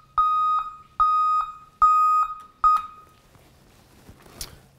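Four loud, steady electronic beeps in an even rhythm from an ECCO SA917N variable-loudness vehicle backup alarm, then quieter background noise after the beeping stops.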